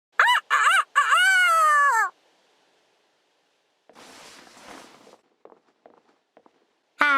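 A voice in the video game Fire Emblem Engage imitates a rooster's crowing, a loud close rising-and-falling call in short bursts, then quieter rustling and scattered small sounds before another call begins.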